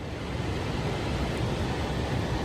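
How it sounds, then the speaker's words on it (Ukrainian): Steady roar of heavy rain and floodwater flowing across a yard, a dense continuous wash of noise with no pauses and no voices. "У нас тут море просто тече по ділянці з цієї сторони."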